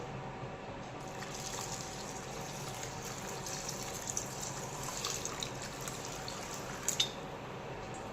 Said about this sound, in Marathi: आता याच्यामध्ये आपण पाणी ओतून